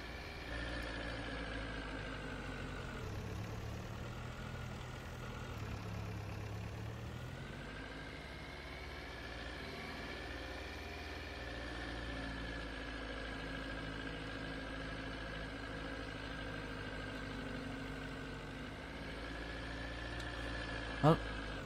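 A vehicle engine idles in Farming Simulator 22, a steady low mechanical drone with a faint tonal hum that shifts slightly in pitch early on, then holds even and close, ending with a brief sharp click.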